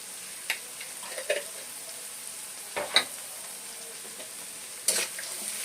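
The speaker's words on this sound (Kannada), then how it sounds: "ಇವಾಗ ಇದು ಸ್ವಲ್ಪ ಚೆನ್ನಾಗಿ ಫ್ರೈ ಆಗಲಿ" Onions fry in a pan with salt and turmeric, giving a soft, steady sizzle, with several brief scrapes and taps as they are stirred.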